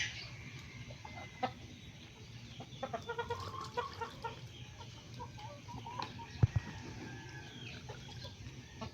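White Kelso chickens and roosters cluck softly in a backyard farm, scattered faint clucks and calls over steady background noise, with one sharper call near the end.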